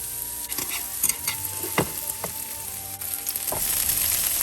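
Minced garlic and shallot sizzle in a little hot oil in a pan for a stir-fried chow mein, a soft steady fry with a few scrapes and taps of stirring, close and quiet.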